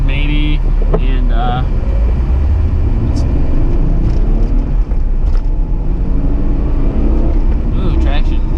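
A silver stock-power BMW E36 drift car with headers and exhaust drives, its engine rumbling and revving loudly from inside the cabin while people talk over it.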